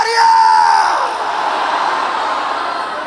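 A church congregation shouts and cheers together during a worship service, a loud, dense wall of crowd voices with one raised cry at the start, sustained for about three seconds.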